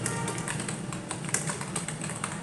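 Keys on a computer keyboard clatter in a steady stream of light, close taps while text is entered into MS Word 2019, with no voices over them.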